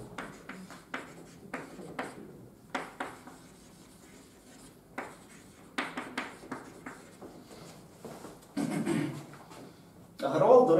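Chalk or marker writing on a board during a university cryptography lecture, heard as a series of short scraping strokes in bursts with pauses, plus a couple of louder rubbing passes near the end, under quiet room noise.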